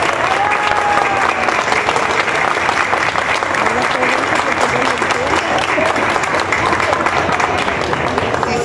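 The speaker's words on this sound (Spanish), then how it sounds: "Les pido un aplauso a mis amigos extranjeros." A crowd claps loudly and continuously for visiting foreign musicians at a Chapala orchestra performance in Cocula, Jalisco, with voices and cheers woven through the steady applause.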